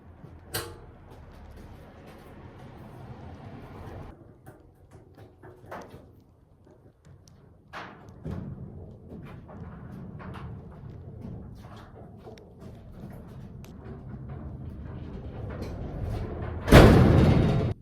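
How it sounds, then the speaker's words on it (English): A garage door is pulled down and closed, with faint scraping and knocks building to a loud slam near the end, heard close in an otherwise quiet space. "Let's just see if we can get the garage door closed."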